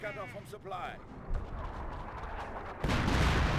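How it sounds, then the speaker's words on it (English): Artillery barrage in Company of Heroes 1 on a WWII battlefield, heavy rumbling blasts rolling in the distance and then swelling louder near the end, under a constant din of battle noise and a speaking voice. "I hear another artillery barrage running on in somewhere"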